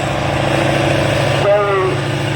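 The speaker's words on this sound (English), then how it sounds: "the whistle from that turbo and the burble of a big V8" A turbocharged V8 in a tractor-pulling machine rumbles nearby at an even idle-like burble, with a brief rising turbo whistle toward the end.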